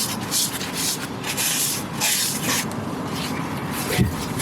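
Brake cleaner hisses in steady bursts from an aerosol can onto a car's flywheel during a manual gearbox swap on a Lexus IS300, a close, continuous spray with short pauses.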